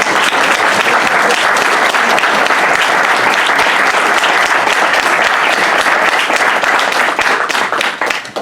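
Loud, dense applause from an audience after a talk on quantum physics, a thick unbroken wash of many hands clapping close by, tapering off at the very end.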